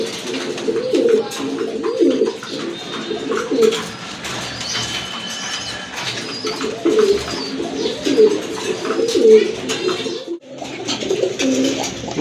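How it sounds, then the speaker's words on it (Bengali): Pigeons coo repeatedly in soft, throaty bursts, a male and a female pair of pet pigeons kept for sale, with the calls recurring every second or two close by amid quiet background noise. "এটা হচ্ছে নর, আর ওইটা কিন্তু আপনার মাদি কবুতর"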